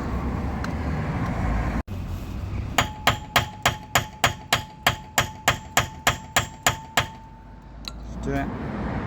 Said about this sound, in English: I'll hammer that in as much as it can go